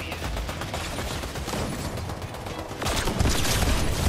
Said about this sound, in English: He's shooting my guy.